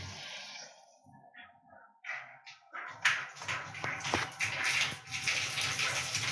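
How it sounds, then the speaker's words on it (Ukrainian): Water runs from a tap as a boiler tank fills after a repair, starting faintly, then breaking into a louder steady splashing rush about halfway through, close and indoors. "Пішла вода з крана, це значить, що бак набрався."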